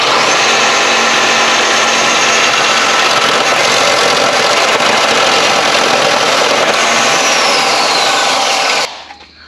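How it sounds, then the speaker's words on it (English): A belt sander grinding down a painted metal part on a 1966 Ford F350 tow rig, running as a loud, steady, close roar with an abrasive hiss for several seconds before cutting off at the end. "we'll take it over here to the belt sander and knock it down a little bit"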